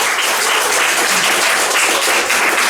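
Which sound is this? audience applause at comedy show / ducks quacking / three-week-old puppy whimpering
audience applause at comedy show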